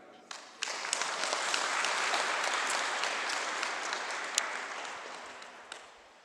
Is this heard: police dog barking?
no